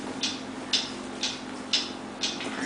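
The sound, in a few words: mysterious ticking noise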